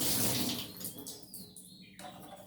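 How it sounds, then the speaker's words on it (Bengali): About half a mug of water pours from a tap or vessel into a large pressure cooker, a short gushing splash that tapers into a thinner trickle and brief drips, close and alone. "এতে কিছুটা জল দিয়ে দিয়েছি, খুব বেশি জল দিইনি, হাফ মগ মতন জল দিয়ে দিয়েছি"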